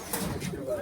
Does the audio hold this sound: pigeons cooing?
yes